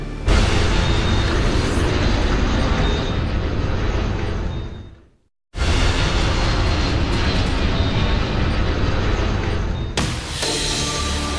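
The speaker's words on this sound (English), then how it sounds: "An NBC News crew captures a small plane spiraling to the ground after it has collided half a mile up" A small Cessna-type plane spirals toward the ground after a mid-air collision half a mile up over San Diego, with loud, roaring aircraft engine noise that cuts out abruptly, then resumes as a rough, continuous rumble.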